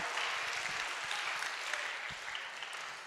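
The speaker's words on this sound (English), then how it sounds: "please give him a big round of applause" Clapping fills a school hall at a middle school academic and athletic awards ceremony, a sustained, even burst of applause from the gathered audience.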